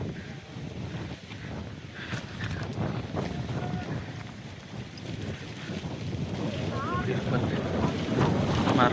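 Strong wind blowing on the slopes of Parvathamalai hill, buffeting and rushing across the microphone and building louder toward the end, with people talking over it.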